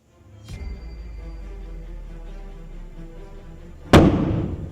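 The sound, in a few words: oxyhydrogen gas balloon explosion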